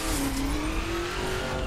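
The Mean Machine performance car's engine drones in The Crew during off-road racing, a steady loud tone rising slightly in pitch as it accelerates, with rough low rumble beneath and no talking.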